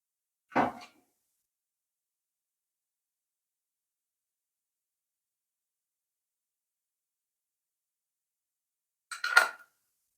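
Metal lid set onto a cooking pot while making jackfruit semolina puttu, with two brief clanks about nine seconds apart and silence between.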